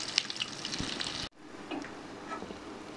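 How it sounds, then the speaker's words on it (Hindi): Shami kababs sizzle and crackle in hot oil for a Ramadan recipe, a steady close frying hiss that cuts out abruptly partway through and then resumes more softly. "और अब ये कबाब फ्राई हो चुके हैं और ये मैं निकाल रही हूँ"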